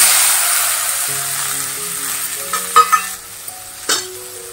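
Okra sizzles loudly in hot oil, a steady crackle that slowly settles, with a few sharp utensil clinks and stirring scrapes near the end.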